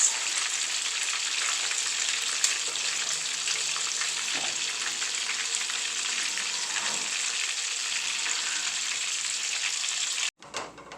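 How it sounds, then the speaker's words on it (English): Meatballs fry in a pan with a dense, steady sizzle and crackle that holds for about ten seconds before cutting off abruptly near the end. "I finished frying them, drained them on this paper towel"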